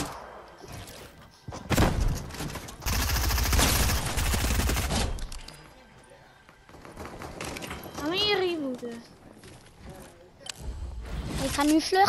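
Video game gunfire rips out as a loud, dense burst of rapid shots lasting a couple of seconds, with a person speaking before and after it.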